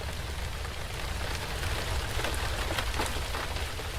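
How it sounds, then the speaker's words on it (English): Soft, steady rain pattering on a roof, a dense continuous wash of drops close by and even in level, with no clear thunder and no voices. "you've got the rain just gently hitting your roof"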